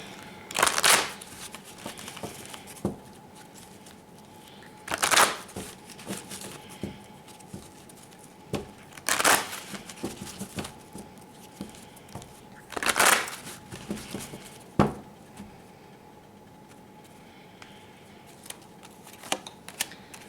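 A deck of Power Animal oracle cards is shuffled in bursts, four or five riffling flurries spaced several seconds apart with soft card handling between, close and fairly quiet.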